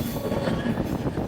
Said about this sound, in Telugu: చూసారా ఎంత ఫాస్ట్గా అయితే కొడుతున్నాడు ట్రైన్